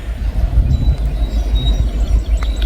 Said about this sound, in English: I got a train